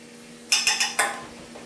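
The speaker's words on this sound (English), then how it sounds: "take the 2 tablespoons of flour and just put that on the shrimp" Four quick metallic clinks of a spoon against a bowl, close and fairly sharp, as two tablespoons of flour go onto seasoned shrimp for shrimp and grits.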